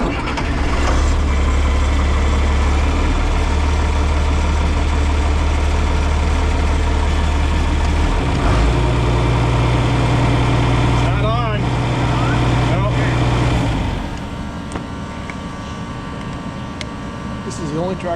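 A tractor fitted with an unusual pre-cleaner on its air intake starts and settles into a steady, loud low idle close by, with the pitch shifting partway through and some rattles and clanks on top. People talk over it.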